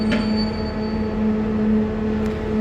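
Old Trenitalia railway wagons roll along a Romanian line, giving a loud, constant rumble with a steady droning hum and faint wheel squeal, with no talk.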